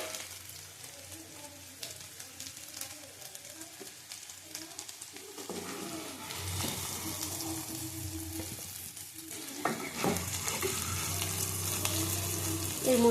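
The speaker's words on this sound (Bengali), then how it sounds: "ভালো করে ভেজে নেব।" Taro pieces frying in a pan, a quiet sizzle at first that swells into a fuller, steady frying hiss with occasional stirring knocks and scrapes, a faint voice in the background at times.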